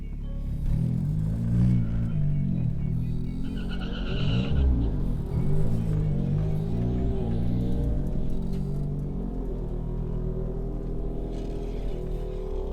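Nissan B13 with a turbocharged 1.6 engine idling and revving at the drag strip start line, a loud, close, droning rumble rising and falling steadily without speech.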